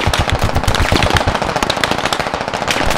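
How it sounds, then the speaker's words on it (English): Rapid machine gun fire in the video game Squad, a loud continuous stream of closely spaced shots that hammers on for the whole stretch without pause. "We have an MG to our west."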